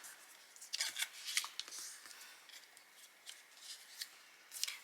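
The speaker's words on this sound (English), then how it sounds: "I'd recommend starting at the bottom and just folding those ones up." Cardstock for a Halloween treat bag is creased along its scored lines, giving a run of crisp, close crinkles and sharp snaps at an irregular rhythm, quiet overall, with no talking.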